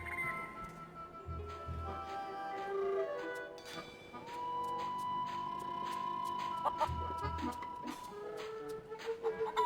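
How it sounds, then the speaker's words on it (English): Feral chicken from the Plunder Island area of the game Curse of Monkey Island, with clucks and short fowl calls over a busy background of tonal game music and effects. "Plunder Island feral chicken."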